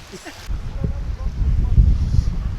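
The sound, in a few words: wind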